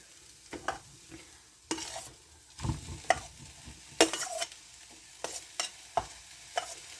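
A spoon stirs and scrapes cooked rice through vegetable fried rice in a pan, giving irregular close clinks and scrapes over a faint sizzle.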